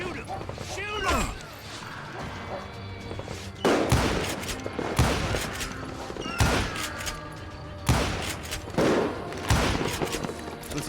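Revolver and rifle gunfire in the Western shooter Call of Juarez: Gunslinger comes in repeated sharp bursts about every second or two, mixed with mechanical clicks, ricochets and a steady game soundscape.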